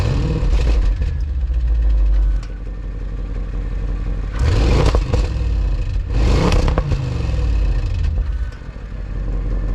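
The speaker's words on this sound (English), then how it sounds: "we're going to take a listen to the exhaust" An Audi S8 Plus engine and exhaust rumble steadily at idle in comfort mode, low and close, with two brief swells of louder noise partway through.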